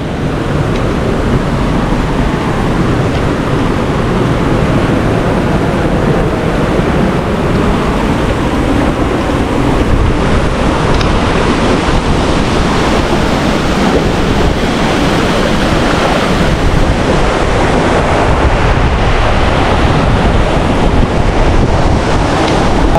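Dunhida waterfall near Badulla roars as a dense, unbroken rush of water, loud and close, with a wind-buffeted rumble and no pauses throughout.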